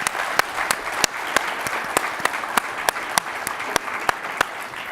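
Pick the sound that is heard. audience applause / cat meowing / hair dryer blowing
audience applause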